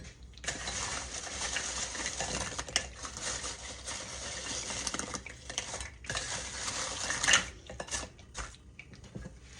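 Fried dumplings being flipped in a pan, with scattered metallic clinks and scrapes of a utensil over a steady sizzle, sounding close and moderately loud.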